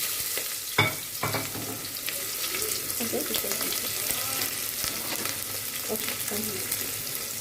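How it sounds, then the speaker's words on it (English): Cloves, cinnamon stick, cardamom and onion frying in hot oil for mutton korma, a steady close sizzle with a sharp clatter near the start and a few stirring scrapes. "Now you heat the oil. You put your cloves, cinnamon stick, elaichi, and onion."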